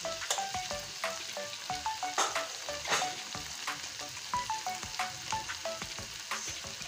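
Ground coriander and turmeric sizzle in hot oil while being stirred, a steady crackling fry broken by repeated scraping and clinking strokes of a spoon against the pan, close and fairly quiet, with no talking.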